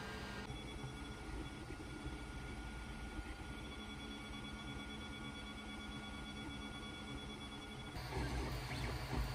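An Ender 3 Pro 3D printer prints bed-leveling test squares, its stepper motors whirring in a steady, close, continuous hum with faint tonal whines throughout. Near the end the sound shifts to a louder, lower rumble as the movement changes. No one speaks.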